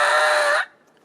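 A turkey mouth call blown by a caller gives one short, bright, reedy tone that holds steady for about half a second, then cuts off abruptly.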